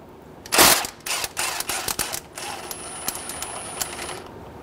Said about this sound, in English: Using a 19 millimeter socket,